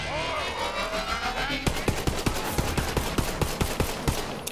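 Enemy gunfire in Borderlands 3 rattles off in rapid, evenly spaced sharp shots that start partway through the clip and continue steadily, heard over a background of game music and ambience.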